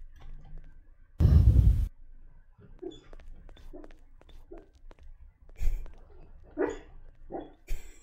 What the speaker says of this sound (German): Unser Hund träumt.